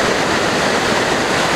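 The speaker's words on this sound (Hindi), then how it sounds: "अब मैं आपको दिखाऊँ कितना प्रेशर है पानी का, देखो" Strong high-pressure water gushes at Manikaran in the Himachal hills, a loud steady roaring rush with no break and no voices.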